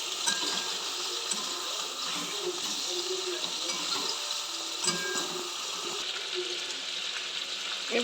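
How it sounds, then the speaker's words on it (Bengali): Chicken frying in oil for butter chicken while it is stirred, giving a continuous broad hiss with occasional soft scraping, moderately quiet and steady throughout, with no voices. "চিকেনটাকে তেলের মধ্যে দিয়ে একটু ভালো করে নেড়ে নিতে হবে"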